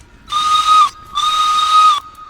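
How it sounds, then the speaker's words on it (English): A British steam whistle gives two loud, sustained shrieking blasts with a breathy steam hiss, separated by a brief pause. "British whistles are slightly disgusting."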